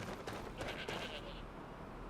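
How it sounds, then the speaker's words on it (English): A goat in the video game Skyrim gives a wavering bleat over a steady background hum and wind-like noise, moderately loud and near. "It's a goat."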